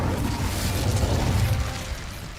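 An Incendio fire spell from Hogwarts Legacy erupts in a steady, close whooshing burst with a low rumble, holding for a couple of seconds before fading slightly.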